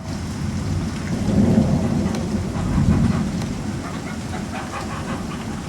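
Thunder rolls in low, rumbling swells beneath a steady, close downpour during a thunderstorm, the rumbles rising twice and fading while the rain hiss carries on throughout.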